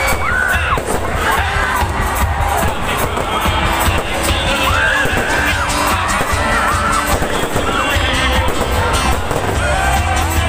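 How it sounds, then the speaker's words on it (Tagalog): A loud crowd cheers and shouts continuously, with children's voices rising above it and scattered bangs of fireworks mixed into the din. "Sobrang ganda talaga ng mga fireworks."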